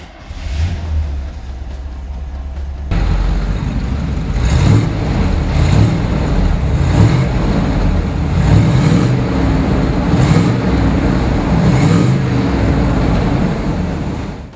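A 1975 Chevrolet Corvette engine catching after a brief crank, then running and revving steadily with repeated throttle blips, loud and close, no talking.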